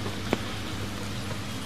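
Steady rain hisses faintly and evenly in the background, with one brief soft tap early on and no talk.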